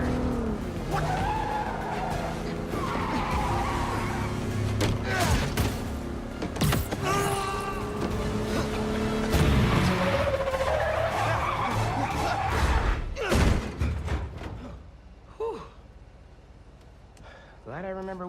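Car braking hard and skidding in Marvel's Spider-Man 2, engine roar and tire screech with crashes and a voice talking over the action before the sound drops away near the end.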